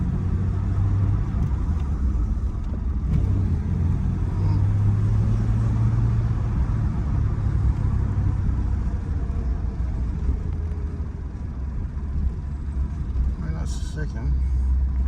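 An EF Ford Falcon's engine runs as the car drives, a steady low rumble throughout with people talking over it inside the cabin.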